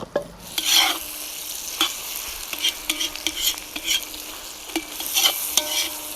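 Pork and onion fry in a pan under a soft sizzle, broken by repeated close scrapes and knocks of a spatula stirring the meat at an uneven rhythm.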